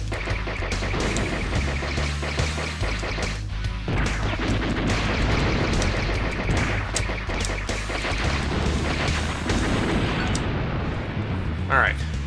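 Explosions and blasts in the Blaster Master video game boom steadily throughout over a busy game soundtrack, loud and continuous with no pauses.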